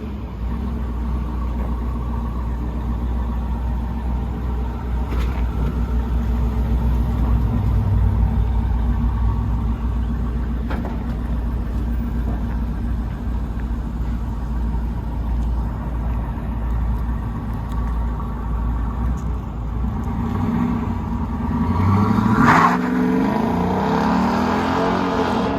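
A Dodge Durango with Flowmaster Outlaw mufflers and the rear mufflers kept idles in a deep, steady rumble close by, with a brief throttle blip near the end.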